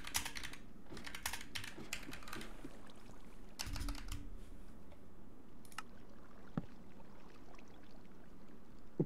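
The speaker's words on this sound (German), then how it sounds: "ich höre deine Tastatur" Computer keyboard typing in bursts of quick clicks separated by pauses, with a few sharper isolated key strikes, heard at close range during a Minecraft gaming session, alone with no talking.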